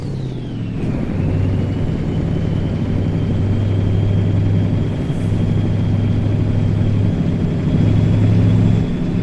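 A truck engine in American Truck Simulator, a low steady drone that rises briefly then holds an even, continuous rumble throughout, loud and close with no talk over it.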